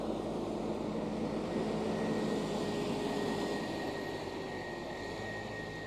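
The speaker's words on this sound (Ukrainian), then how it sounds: "Тихенько турбінка працює" A small turbine fan runs quietly, giving a steady, unbroken whirring hum with a faint tonal whine, constant in level from start to finish.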